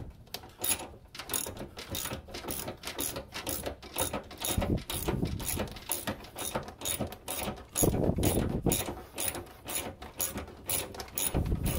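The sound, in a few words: removing a bolt from an Impala bumper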